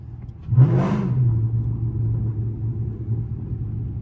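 A rear-wheel-drive Chrysler 300C engine revs hard during a pull, a sudden surge followed by a deep, sustained rumble heard from inside the car.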